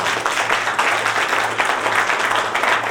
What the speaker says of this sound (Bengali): একবার চাইবো 87, 88 ব্যাচের জন্য একবার জোরে হাততালি